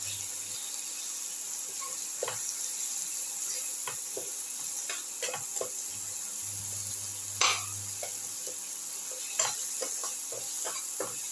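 Egg and potato seasoned with cumin seeds, salt and pepper are sautéed in a pan, with a steady low sizzle and occasional light scrapes and taps of the spoon against the pan throughout.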